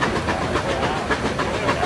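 A steam traction engine with a vertical boiler, worked by a driver and a fireman at a steam show, gives a loud, steady rushing hiss with a faint rhythmic pulse, heard close up.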